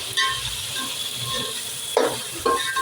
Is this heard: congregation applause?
no